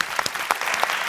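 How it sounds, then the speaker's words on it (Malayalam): Audience applause on a TV singing reality show, a steady burst of clapping from the studio crowd with a few louder claps standing out, filling the whole moment without any voices. "നല്ലൊരു കൈയടി കൊടുക്കേണ്ടതും"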